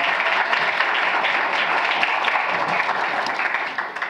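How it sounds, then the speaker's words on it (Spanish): A conference audience at a regional technical dialogue on prison management applauds steadily, a dense wash of many hands clapping at once that fades slightly at the end. "Por favor, un aplauso."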